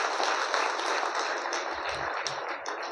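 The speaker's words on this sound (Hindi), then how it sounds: "ज़बरदस्त ताली लगाइए अपने लिए।" An audience at a morning meeting claps together in a dense, sustained burst of applause that stays loud and even, then eases slightly toward the end.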